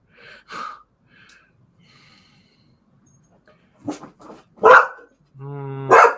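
A dog gives a few sharp barks and snorts near the end, after quiet stretches with soft rustling and faint breathy sounds.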